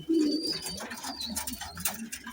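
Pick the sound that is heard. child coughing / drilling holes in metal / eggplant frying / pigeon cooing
pigeon cooing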